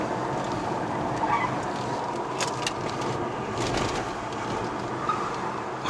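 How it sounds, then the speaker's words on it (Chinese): Tires squeal in short, bright bursts over a steady engine and road roar inside a BMW 530i M Sport (G30) on run-flat tires climbing a winding mountain road to Genting, Malaysia. "现在轮胎叫的声音比较多一点。"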